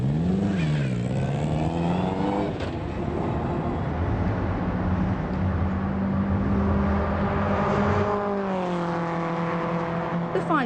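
Racing car engines on the Bahrain Formula One track, a loud continuous drone with rising and falling pitch as the cars shift and pass, while a narrator speaks over the engine noise.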